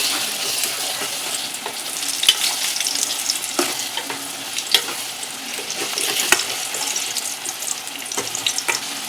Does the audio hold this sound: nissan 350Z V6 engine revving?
no